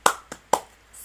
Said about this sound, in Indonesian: Namun sebelumnya kita tepuk semangat dulu